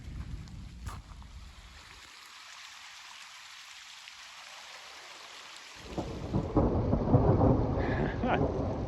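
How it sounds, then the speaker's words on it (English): Thunder from a storm near a creek bed along the Glenwood Catwalk, a loud crack followed by a broad rolling rumble that fades, then swells again with heavy rain-like noise. "that lightning cracked and that thunder came"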